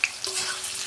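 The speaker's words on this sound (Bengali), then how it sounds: "আলুটা হালকা ভেজে নেব।" Boiled potatoes with bay leaf and green chilli fry gently in a pan, giving a soft, brief, close sizzle.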